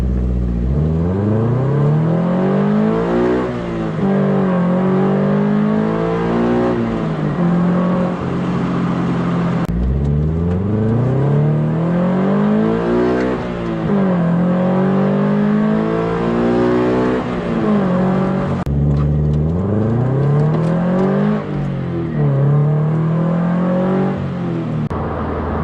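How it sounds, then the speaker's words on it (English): Wide-open acceleration of a Scion FR-S fitted with a Gruppe-S unequal length header, heard from inside with the windows partly down: loud, continuous engine and exhaust rising in pitch through several gear pulls, with brief drops at each shift. "a quick, just wide open acceleration with the car, and the windows down a little bit to give you a little quick preview of what the exhaust sounds like"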